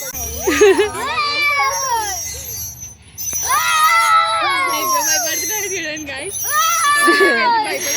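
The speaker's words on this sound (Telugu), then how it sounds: "అది భయపడుతున్నట్లేదు, ఎగ్జైట్మెంట్ తోటి అరుస్తున్నట్టుంది" Several children shriek and shout excitedly while playing in a park, their high, rising cries coming in loud bursts over continuous chatter, with a short lull midway.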